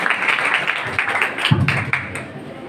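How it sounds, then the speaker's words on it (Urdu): An audience at a Quaid Day college event for women in New Karachi applauds to welcome a student speaker, a dense, steady wash of many hands clapping with a voice faintly mixed in. "بہت سی تالیوں میں استقبال کیجیے گا شہزادی ربیہ"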